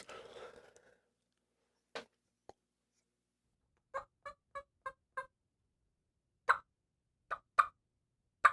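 Sparse, short sharp clucks and plops on a turkey call, a brief burst at the start then single and clustered notes, imitating a wild turkey hen flying down from the roost.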